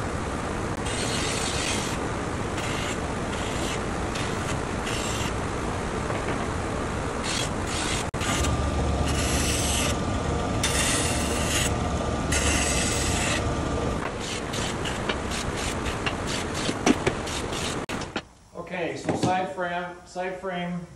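A flap sander shapes bevels on the wooden side-frame rails of a cabinet, giving a continuous abrasive whir broken by rasping strokes, with a voice talking near the end.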